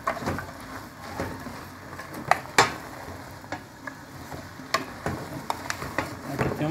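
A spoon stirs chicken pie filling with boiled corn in a pot, a soft scraping and gentle sizzling with scattered clicks and knocks against the pan, close and fairly quiet, no talk.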